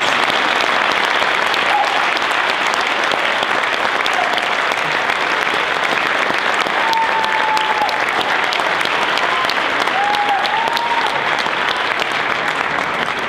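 Parents and students at an honor band event give the band directors long, continuous applause, a dense, even wash of clapping from a large crowd with a few faint whistles or cheers rising through it.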